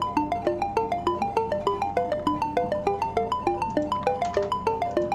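A Pure Data patch plays a stepped harmonic-series scale of bright synthetic tones, each note repeating through a delay in a quick, regular pulse, clean and alone throughout.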